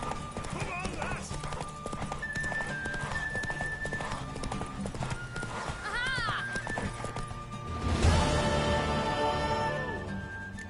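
Horse hooves clip-clop steadily in The Witcher 3 video game, with a neigh and whinny partway through, under game music and character voices talking.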